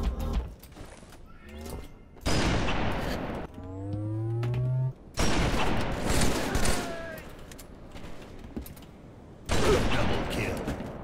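Bursts of Halo 3 gunfire from an online multiplayer match, loud repeated volleys broken by short gaps, with mechanical clanks and whistling game effects between them.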